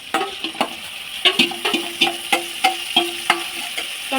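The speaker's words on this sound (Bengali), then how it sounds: "তো মশলাটা ততক্ষণ কষাবো যতক্ষণ না মশলা থেকে তেল ছাড়ছে" Meat is cooked down with masala and tomato paste in a pan, a soft background sizzle with a steady rhythm of distinct spatula knocks and scrapes roughly every third of a second, close by and with no speech.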